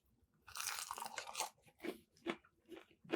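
Crisp, crunchy bites into fried battered chicken wings, close to the mic, with several separate crunching bursts and chewing over roughly three seconds and no talking.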